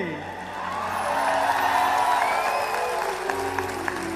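Applause from an audience at a Hindi poetry recital rises after a recited verse, swelling to a moderate, sustained patter with faint whoops, while music and a voice carry along beneath it.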